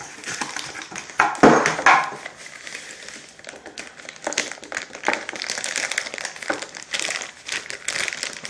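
Packaging of a Power Acoustik PWM-16 four-band equalizer being cut and unwrapped: a loud, sharp crinkle early on, then steady close crackling and rustling of plastic and cardboard that continues throughout.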